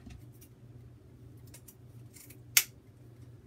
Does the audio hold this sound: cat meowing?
no